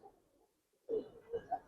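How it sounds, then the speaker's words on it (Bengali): A female Giribaz pigeon from an old-line Dhaka loft, held in the hand, gives a couple of soft, low coos close by after a brief near-silent pause. "এই মাদিটা আমার ধরলে কুকাইবো"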